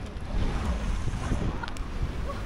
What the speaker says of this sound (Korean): 파도 소리 여기까지 들려.